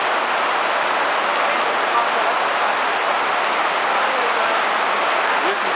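A downpour of heavy rain, around an inch or more per hour, makes a thick, unbroken roar of drops drumming on surfaces, loud and even from start to finish.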